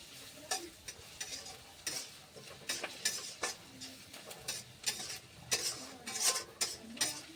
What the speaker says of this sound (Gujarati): પછી આપણે મસ્તનું આને મિક્સ કરી નાખશું.